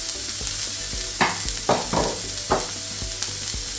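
Onions fry in a pan for Jaffna-style mutton kottu roti, a continuous sizzle with several sharper bursts as they are stirred and tossed, moderately loud and close.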